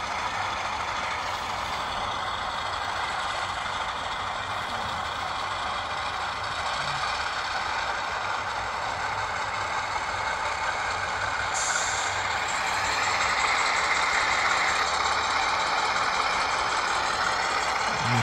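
Two Rapido HO scale E8A model locomotives, one an Illinois Central, run side by side on track, giving a steady, even whir and rumble that holds for the whole stretch with no talking.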